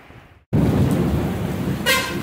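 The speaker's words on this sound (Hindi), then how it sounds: "बहुत ज़्यादा बारिश हो रही है" Steady, loud broadband hiss of heavy rain fills the clip after a sudden start, with a brief horn-like tone near the end.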